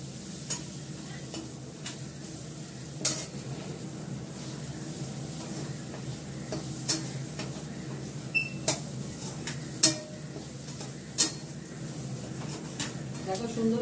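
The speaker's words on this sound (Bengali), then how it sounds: "এবার দেবো আলুটা, আলুটার সঙ্গে ভালো করে কষিয়ে নেব।" Potatoes stir-fried in a pan with spices, a steady quiet sizzle under repeated sharp clinks and scrapes of a spatula against the pan, irregular and close.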